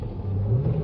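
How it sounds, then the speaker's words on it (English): A 1972 Jaguar E-Type Series III 2+2 with its 5.3-litre V12 gives a short, close, deep engine note that swells and rises in pitch as it revs, heard alone with no talking. "this car makes a great noise"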